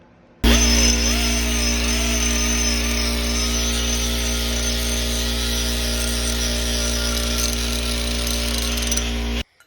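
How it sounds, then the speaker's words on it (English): A power tool sands and grinds a go kart muffler before welding, starting abruptly and holding a loud, steady droning whine with a harsh abrasive edge for about nine seconds before cutting off. "my dad just sanded this and grinded on this to get it looking good"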